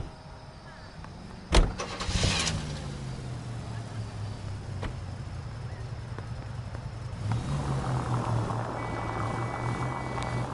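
A car engine in the video game L.A. Noire idles and rumbles steadily after a sharp door-like thump, then swells as it accelerates toward the end, close and continuous.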